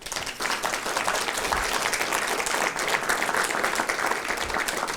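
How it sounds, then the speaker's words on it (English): Audience applause at the close of a panel on founding an allopathic medical school in Southern Nevada, a steady dense clapping that fills the room for the whole stretch, no voices over it. "Let's give a round of applause"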